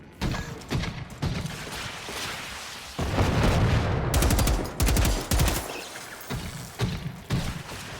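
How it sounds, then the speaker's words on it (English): Mortar fire in a game: a rapid series of sharp, loud blasts and cracking shots with booming impacts, arriving in clustered bursts over steady background rumble. "What are you firing at? I love this mortar."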